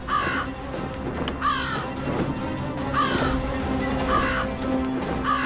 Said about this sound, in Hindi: देख बोलने वाला काक